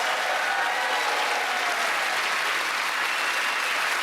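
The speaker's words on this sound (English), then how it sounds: "that round of applause for Ed, Kerry and Rhys" Studio audience on a comedy panel show breaks into steady, dense applause that holds at full strength throughout, a continuous wash of clapping with no voices on top.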